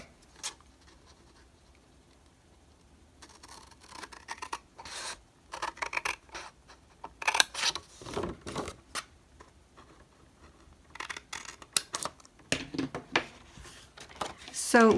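Scissors cut a box shape out of cardstock for a birthday gift box craft, giving intermittent crisp snips and paper rustles while a person talks throughout.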